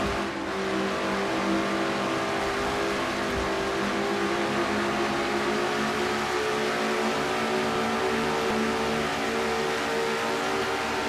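Stock cars in a racing video game scream at high RPM, a dense, continuous engine drone with steady tonal whine that holds loud throughout with no break.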